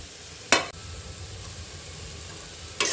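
Beans and potatoes frying in a pan give a soft, constant sizzle, broken by two brief scraping strokes of stirring, one early and one at the end, with no talking.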